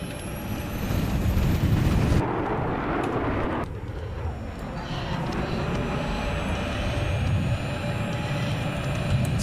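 Airplane engine in the video game Battlefield 3, a steady loud roar that holds through the stretch and shifts in tone partway, with rumbling low noise and faint tonal whines overhead.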